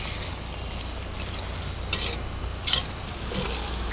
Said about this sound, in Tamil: ஸோ இந்த ஸ்டேஜில் நம்ம கண்டிப்பாக கிண்டி விட்டுட்டே தான் இருக்கணும்.